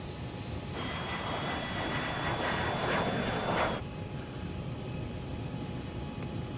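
An airplane engine drones steadily and close, swelling louder for a few seconds before settling back to a constant hum, with no voices.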